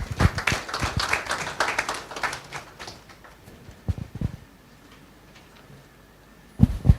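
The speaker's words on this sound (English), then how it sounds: "I think we can give a more resounding round of applause for our chairperson" Applause for a chairperson at a cardiology society's scientific meeting, a burst of many hands clapping that fades to a few scattered claps, then rises again briefly at the end.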